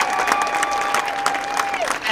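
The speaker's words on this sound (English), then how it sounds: "let's have one more round of applause for PCC" A crowd at a college band festival at Pasadena City College gives a brief burst of steady applause with a few cheers.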